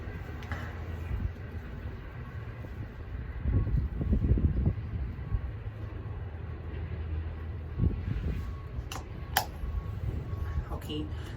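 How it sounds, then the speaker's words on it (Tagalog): Strong gusty wind during a Saskatchewan snowstorm buffets the microphone at a bus shelter, rumbling low and surging in heavier gusts midway, with faint traffic-like noise and a voice speaking over it. "Oh my God, sobrang lakas ng hangin, as in."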